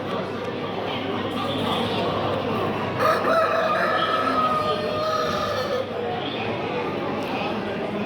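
A rooster crows loudly nearby in a long drawn-out call at a poultry show, while other birds cluck and a person talks over it.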